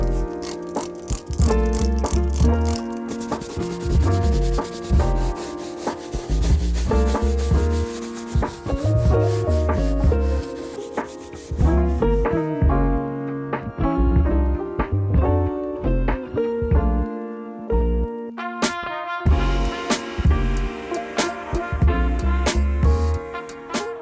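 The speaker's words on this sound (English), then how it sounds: "I'm just gonna go ahead and quickly clean the rest of the leather seat" A brush scrubs a leather car seat in rhythmic back-and-forth strokes, a close, steady rubbing and scratching that pauses briefly now and then, with no voices.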